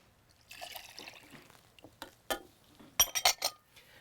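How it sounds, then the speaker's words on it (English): Whisking lemon zest, mirin and soy sauce in a bowl gives a soft liquid swish followed by light, sharp clinks of a utensil against the bowl, close and quiet, with no talking. "Whisk these ingredients together until the sugar is dissolved."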